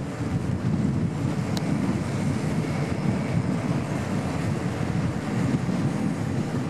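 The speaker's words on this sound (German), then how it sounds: "Ziemlich windig im Cabrio." Wind roars into an open convertible on a drive near Merzdorf, a loud, steady low rumble and buffeting that fills the whole stretch without letting up, with no talking over it.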